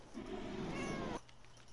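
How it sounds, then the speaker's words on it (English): A nearby cat lets out a single drawn-out, wavering meow lasting about a second, then falls quiet over a faint background hum. "I just heard a cat meow"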